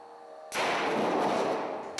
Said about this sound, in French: On vient de s'apercevoir qu'il y a eu une explosion, donc qui a projeté à plusieurs centimètres la batterie.